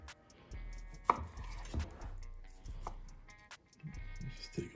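Knife slicing into freshly grilled filet mignon and pork chops on a Ninja Foodi Grill, a few soft cutting thuds and scrapes against a board, fairly quiet and close, spaced out irregularly.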